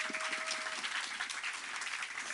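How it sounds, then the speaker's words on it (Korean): Clapping from a youth church gathering congratulating high school seniors after their college entrance exam, a soft, even patter of many hands throughout, fairly distant and quiet. "우리 박수 한번"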